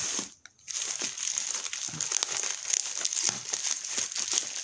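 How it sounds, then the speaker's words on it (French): Orange packing tape on a parcel being cut open, a steady crinkling, crackling rasp of plastic film that runs almost without pause after a brief quiet gap near the start, close and fairly loud. "on va juste essayer de couper le scotch sans couper tout le reste"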